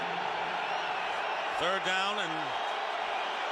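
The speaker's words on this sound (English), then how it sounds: "Crowd yelling for a stop by the Cowboy defense." A football stadium crowd yells for a Dallas Cowboys defensive stop against the Detroit Lions in 2005, a steady roar filling the background under continuous play-by-play commentary.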